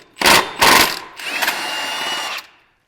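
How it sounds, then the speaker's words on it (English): An impact wrench fires two short loud bursts, then a longer buzzing run, as it works the T60 center bolt out of a Polaris RZR Turbo primary clutch, ending in silence. "This is a T60, I'm gonna use an impact."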